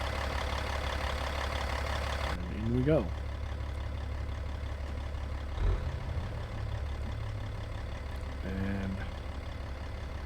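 A heavy autonomous tractor truck with a 10-speed gearbox and a 38,000-pound load starts up in American Truck Simulator, settling into a steady, low diesel rumble at idle beneath a man's occasional speech.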